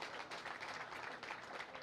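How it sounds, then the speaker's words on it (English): Crowd applause for exhibitors at the 2022 Plymouth County Fair beef show: a steady, dense wash of many hands clapping together, moderately distant and even throughout, with no voices over it. "put your hands together, congratulate these exhibitors that compete in this contest"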